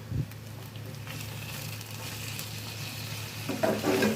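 Small chicken pieces fry with shallots in a pan, producing a steady, close sizzle with a few scraping stirs near the end and no talking.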